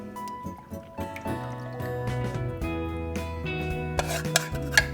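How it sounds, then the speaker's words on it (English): Louisiana hot sauce poured slowly from a pot into a jar while canning turkey wings, with trickling liquid, clinks of metal and glass, and scraping near the end. "So I'm going to slowly pour this in."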